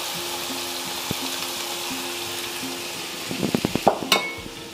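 Green peas pulao rice is stirred in a pot over a steady background hiss, and a burst of scraping spoon clatter comes near the end.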